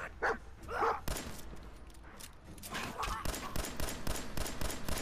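Gunfire and a dog barking in Fallout 4, with sharp barks early on giving way to a rapid string of shots over a background battle, while someone speaks over it.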